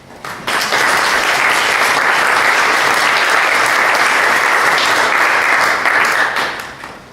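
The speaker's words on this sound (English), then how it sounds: "give some applause" An audience breaks into steady applause at the close of a talk on female artists, the secondary market and piracy; the clapping swells quickly, holds dense and even for several seconds, then tapers off.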